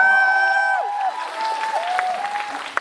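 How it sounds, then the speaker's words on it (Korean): A theater audience applauds at a stage greeting for the film Exit, a steady wash of clapping beneath clear, sliding tonal sounds that fade midway, with a sharp single clap near the end. "한 박수 부탁드립니다"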